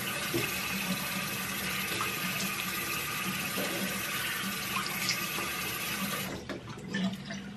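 Water runs steadily from a bathroom tap as face cleanser is rinsed off at the sink, a close, continuous rushing hiss that breaks into uneven splashing near the end, with no voices.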